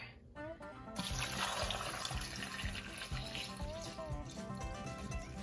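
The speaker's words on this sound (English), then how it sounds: "I'm gonna add water" Water runs steadily from a tap into a cooking pot of tomatillos, a continuous splashing gush with a faint background hum.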